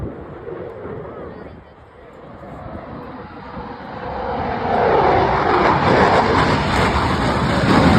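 A fighter jet flies overhead with a loud roaring rush that swells and grows closer, mixed with wind buffeting while people talk excitedly nearby.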